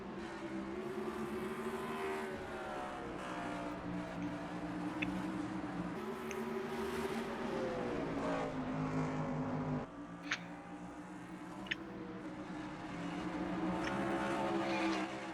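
Stock cars racing at night on Eldora's dirt oval in NASCAR Racing 2003, All-Star Race: a steady droning engine roar from several cars, rising and falling in pitch as they lap, with occasional sharp clicks, fairly faint throughout.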